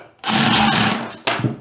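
Milwaukee SDS hammer drill running in rotary hammer mode, a loud harsh rattling buzz that starts abruptly, runs for about a second, cuts out, then gives two short bursts.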